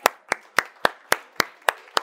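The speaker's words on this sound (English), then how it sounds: "Now give yourselves a round of applause." Slow, evenly spaced claps, about eight sharp hand strikes in two seconds, fairly close and moderately quiet, with no other sound between them.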